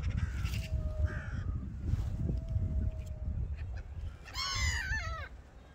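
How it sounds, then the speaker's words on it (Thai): Crows and seagulls calling while they feed outdoors, with repeated harsh caws and a burst of higher gull-like cries near the end over a steady wind-like background rumble. "ชมนกนะคะนกอีกานกนางนวลค่ะ"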